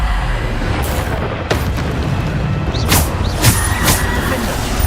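Bombarda blasting spells in the video game Hogwarts Legacy, with a few sharp booming blasts breaking through a constant loud roar of battle noise and rumble.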